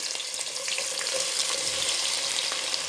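Star anise and other whole spices sizzle lightly in oil in a pan for vegetable rice, a steady soft crackling hiss with small pops throughout, no voices.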